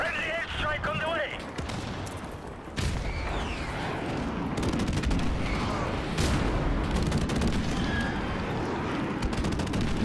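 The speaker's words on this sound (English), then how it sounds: "Friendly airstrike on the way." A friendly airstrike in Call of Duty Remastered, dense rumbling explosions and rapid gunfire piling up continuously and loudly, with voices talking over the din.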